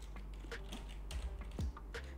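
Keys tapped on a computer keyboard while an email address is typed, a handful of light, irregular clicks spaced out over a low steady hum, fairly quiet and close.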